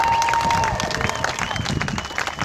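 A Trump rally crowd at Settlers Landing in Cleveland claps and cheers in a steady, dense wash of applause with scattered shouts, loud and continuous throughout.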